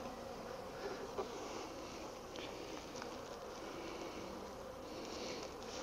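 A dense, steady buzz of many Italian honeybees humming together at a Flow Hive, continuous and moderately faint with no talking.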